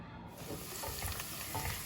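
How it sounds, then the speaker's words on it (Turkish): Onions sizzle and fry in a pot as the base for lentil soup, a dense, continuous crackling hiss with faint scraping of stirring. "Soğanımı koydum. Böyle kavurmaya başladım."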